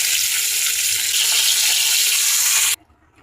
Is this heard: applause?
no